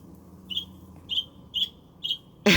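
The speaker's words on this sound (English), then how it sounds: "They come and they sit in this arborvitae and they just sing their hearts out." Birds singing in an arborvitae: four clear, high chirping phrases repeated at roughly half-second intervals over quiet outdoor background, ending with a sudden loud burst.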